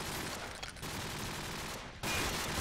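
Rifle gunfire in a Call of Duty 4 competitive match, a kill shot fired through a wall: dense, rapid shots and fusillade noise, steady and fairly loud, with a brief dip then renewed firing.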